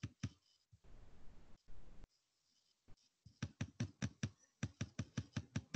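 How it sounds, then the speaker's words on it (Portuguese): A computer keyboard is typed on, first in a few scattered clicks between brief rustling, then in a quick, steady run of sharp, close key clicks heard alone. "É meu teclado."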